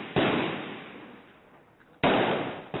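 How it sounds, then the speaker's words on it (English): Loud single gunshots crack out in city streets in Iraq, the first and second ringing with long echoing decay, then a third shot cuts in just after. "we arrived to find the streets still ringing with gunfire."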